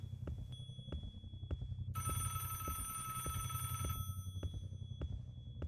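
In the video game Doors, a mobile phone's electronic ringtone sounds in bursts, loudest for about two seconds in the middle, over a steady heartbeat-like thumping pulse.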